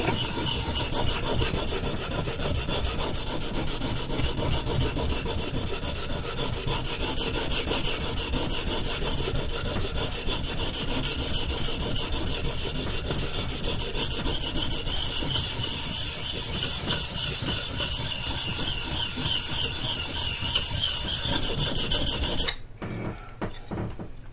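A steel chisel is drawn back and forth across a Baryonyx American Mutt sharpening stone, held flat to remove the burr. The rhythmic, gritty rasping strokes continue steadily and close by before stopping abruptly near the end.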